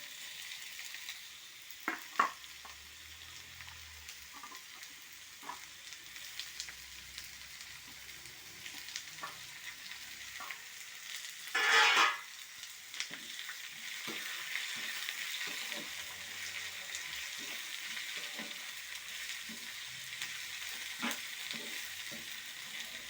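Rose apple pieces sizzle and fry in a pan with softened onion and chilli, a steady hiss with a louder burst of sizzling midway and occasional stirring scrapes.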